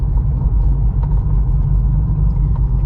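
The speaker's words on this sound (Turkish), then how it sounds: "Frenden hemen küçücük bir gaz veriyorum." Car at a driving school easing off the brake and taking a little gas through a turn, a loud, close low engine rumble that stays steady and swells only slightly, with no talk.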